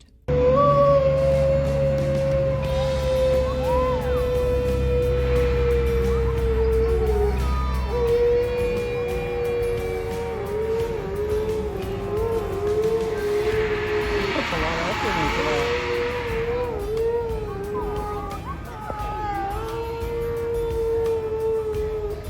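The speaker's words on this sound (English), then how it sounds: "So we rushed over to the wolf enclosure to be able to see up close what was happening, and he continued to howl for a bit after we arrived." A wolf in a zoo enclosure at Hersheypark lets out a long, sustained howl with wavering pitch that rises and falls across the whole stretch, loud and close, with faint crowd murmur underneath.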